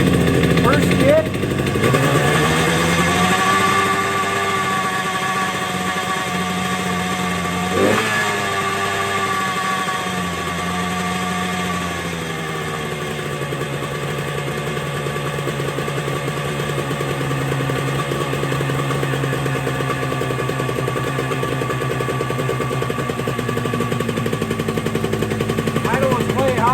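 A Yamaha RD350 two-stroke motorcycle, just tuned up, cold starts on choke and settles into a loud, uneven high idle that crackles and pops close by, with a revving surge early on and steady running after.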